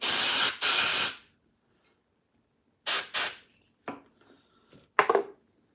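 Compressed air blasts dirt out of a brushless motor in short, loud hissing bursts: one long double burst, then another pair of bursts a couple of seconds later, followed by a few quieter puffs separated by silence.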